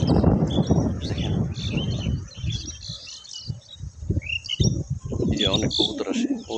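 Birds call over a rice field in Belai Beel, where flocks of Jalali pigeons gather. Scattered chirps and calls sound at a moderate distance, and a voice talks underneath in places.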